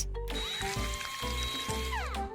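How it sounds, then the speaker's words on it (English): A surgical drill bores into skull bone in the game Surgery Simulator, a loud steady whirring tool tone that winds up and down in pitch across several short bursts, heard alone. "So now we need to drill into the bone."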